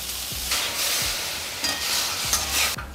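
Mustard seeds and cumin crackle and sizzle in a little hot oil, a steady close frying hiss broken by a few soft stirring scrapes.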